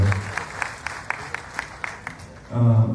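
Audience at a Chennai stage event claps in a steady, even rhythm, moderately loud, before a voice comes in at the end.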